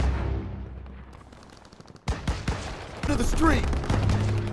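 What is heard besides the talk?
gunfire in Call of Duty WWII video game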